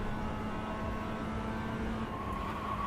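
Tyre and engine noise from a race car in the WRC racing game, a steady droning whir with a faint tonal engine hum, fairly quiet and unbroken.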